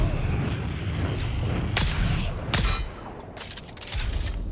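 Gunfire in the Dune roleplay game comes as scattered sharp cracks and booms over a continuous rumbling din, with a few bursts standing out and no clear voice.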